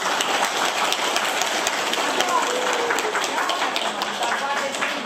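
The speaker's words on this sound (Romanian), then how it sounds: "Aplaudăm" Steady, dense applause from a crowd at a children's autumn festival in Ruginoasa, celebrating a pupil's entry; the clapping runs evenly and continuously throughout without a break.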